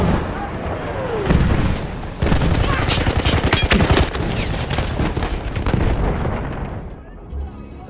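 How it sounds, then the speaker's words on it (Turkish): Battlefield 1 battle on the Suez conquest map: dense, loud gunfire and heavy explosive booms overlap in chaotic bursts, with a voice talking in the mix before the din thins out toward the end. "Bomba atıyorum."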